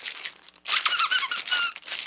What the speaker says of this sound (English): squeaky plushy toy.